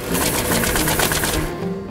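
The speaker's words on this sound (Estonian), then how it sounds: "Seal paned printerisse näiteks oma ID-kaardi ja paberid tulevadki välja." A printer at a self-service printing station in town runs paper through with a rapid, even mechanical chatter that stays loud and steady, then stops abruptly.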